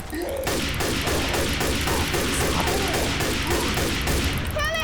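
Rapid, loud gunfire from Left 4 Dead 2 rattles almost continuously in dense bursts of shots and impacts, with a brief voice at the very end.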